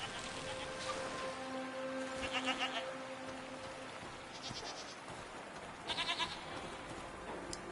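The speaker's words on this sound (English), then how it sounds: "What are these strange goat-like creatures?" Goat-like creatures in the Season video game bleat in short bursts, one call early and a louder pair of cries later, over a steady ambient hum and soft patter like rain.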